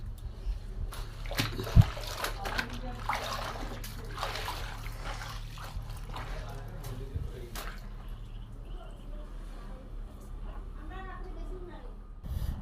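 A floor-mop handle is rinsed in a bucket filled with rainwater, giving repeated splashes and sloshing up close that continue unevenly throughout, with faint background noise behind them.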